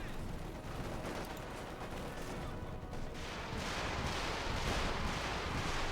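Stuka rocket barrage strikes in Company of Heroes 2, a dense run of explosive blasts and crackling impacts that keeps going throughout and swells louder toward the end.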